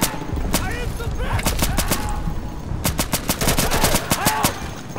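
Rapid gunfire from the video game Insurgency on a checkpoint map at Dry Canal, with sharp bursts and repeated single shots cracking in close succession over a busy battle backdrop, loud and dense throughout.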